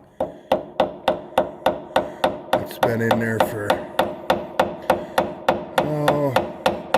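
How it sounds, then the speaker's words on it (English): A great big hammer taps out a little cotter pin on the front end of a 1970s tractor: sharp, close metallic strikes land in a steady rhythm, about two per second, while someone speaks briefly partway through. "Great big hammer to tap out"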